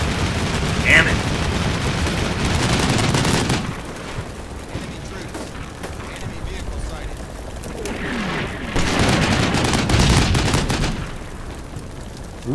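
Armored vehicle crews fire their guns in the Combat Mission war game: sustained loud bursts of gunfire and booming impacts come in waves, with brief quieter gaps between them.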